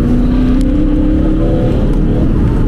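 A BMW M3 E92 fitted with an Akrapovic exhaust accelerates from 3000 rpm, its loud continuous engine note rising steadily in pitch and filling the whole moment.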